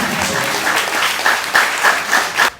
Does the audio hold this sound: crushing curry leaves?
no